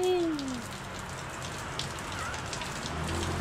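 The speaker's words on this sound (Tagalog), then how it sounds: "Umuulan na." Steady rain falling on surfaces around a house during a storm, a dense continuous hiss of drops close by, with a brief faint tonal sound at the very start.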